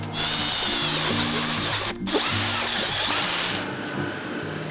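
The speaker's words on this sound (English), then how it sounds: "So we got the old drill with a screwdriver." An old power drill fitted with a screwdriver bit wrapped in sandpaper, used during a sailboat cutlass bearing replacement, whirs loudly and steadily up close, with a brief stop near the middle before spinning up again.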